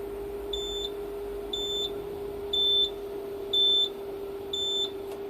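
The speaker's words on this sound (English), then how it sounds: "That beeper was the overload beeper, overload warning beeper." Overload warning beeper on a home-built 1 kW HP UPS running a 1000 W load test at 36 V, sounding five short, evenly spaced high-pitched beeps over a steady electrical hum.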